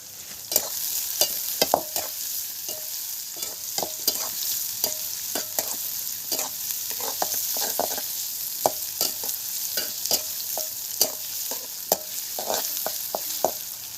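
Onion frying in a hot pan makes a constant fine sizzle, punctuated by frequent sharp clacks and scrapes of a spatula stirring, irregular but busy throughout, close up and without talk.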